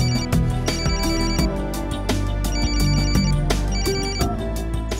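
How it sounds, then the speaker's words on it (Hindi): A phone ringtone plays repeatedly in a steady melodic pattern, loud and close, layered over busy background music. "किसी का फोन आया उसे, लगता है उसी का फोन होगा।"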